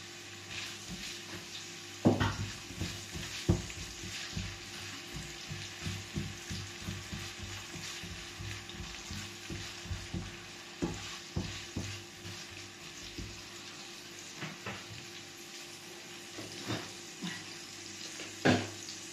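Garlic and onion fry in a pan under a constant bright sizzle, punctuated by irregular clinks and scrapes of stirring, close by and without any voice.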